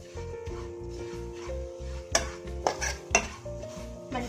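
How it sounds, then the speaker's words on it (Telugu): Condensed milk coconut burfi mixture is stirred in a pan, a rhythmic scraping of a spoon against metal repeating roughly twice a second, with a few louder clanks toward the end, close and without talk. "మంచిగా ఇట్లా కలుపుకోవాలి"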